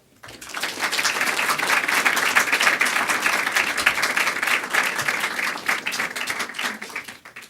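An audience applauds to welcome Harvey Mansfield before a talk on the future of political parties, with bright, dense clapping that swells quickly, holds loud and steady, and then tapers slightly.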